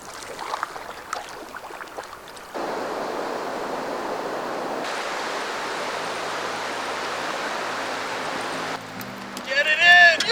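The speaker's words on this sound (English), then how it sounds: "We paddled up that canyon of this tributary river to a beautiful waterfall." A waterfall on a small tributary river in a wilderness canyon gives a steady, broadband roar that swells in after a quieter start. Brief louder handling noises follow at the end.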